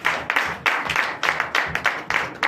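Congregation at a Sunday church service in Comè, Benin, clapping in a steady rhythmic beat, with bright repeated bursts of hands close by and a lively, cheering crowd feel throughout.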